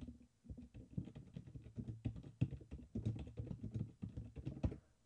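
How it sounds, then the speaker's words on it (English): Quiet, rapid clicking of a computer keyboard as someone types, a fast uneven patter of keystrokes heard close by with no speech. "And I'm going to type in"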